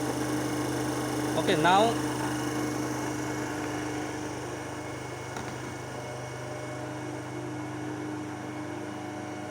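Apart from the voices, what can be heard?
electric motor running near rated speed of 1500 rpm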